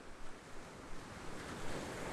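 Ocean surf rolls in a continuous wash under gusting wind, the noise swelling and easing in soft waves. It is moderately loud, broad and steady, with no voices.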